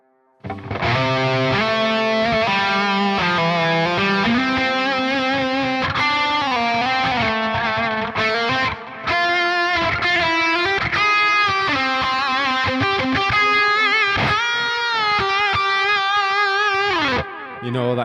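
A distorted electric guitar plays a continuous lead line drenched in reverb, loud and sustained with brief pauses.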